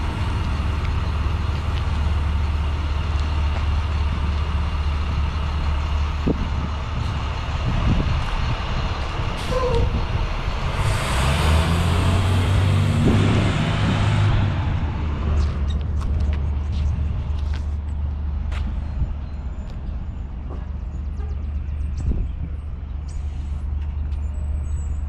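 Diesel school buses pull into Harborfields High School, their engines a continuous loud rumble up close, with a hiss of air brakes midway and a few sharp clanks, no clear talk.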